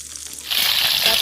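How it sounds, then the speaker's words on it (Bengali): Carrot and capsicum for fried rice hit a hot pan, and a sudden bright sizzle swells up partway through, then hisses steadily and loudly up close. "গাজরটা একটু ভাজা হোক"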